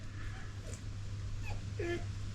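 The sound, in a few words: puppy whimpering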